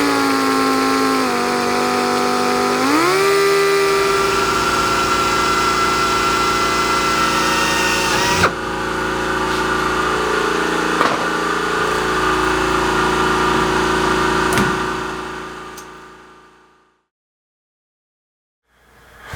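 A loud, steady power drill whine, match drilling canopy side skirts on an RV-7A aircraft, runs with a pitch dip near the start, a few sharp knocks along the way, then winds down and stops.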